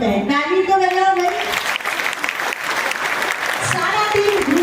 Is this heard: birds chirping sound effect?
no